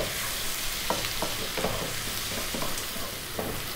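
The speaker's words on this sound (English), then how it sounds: "So in goes the bacon, the salt, pepper, oregano." Bacon with salt, pepper and oregano fries in a pan under near-constant stirring, giving a steady close sizzle broken by light scrapes and clicks of the utensil.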